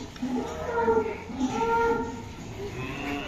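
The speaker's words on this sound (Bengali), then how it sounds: "পাগলা অবস্থা গরুটার।" Excited cow at a livestock farm during Qurbani cattle collection, giving a few low moaning calls close by amid background noise.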